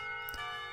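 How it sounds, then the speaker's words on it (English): Clock tower bells in the Katawa Shoujo visual novel ring a sustained, resonant tone that hangs steadily through a brief moment, fairly soft and without talk over it. "The clock tower bells ring, signaling the end of the period."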